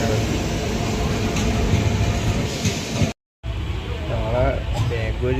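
Interior of a train running on the Salem to Bangalore route, a steady loud rumble and rolling noise with faint clatter, briefly cut by a short silence before resuming, with a voice faintly heard under it.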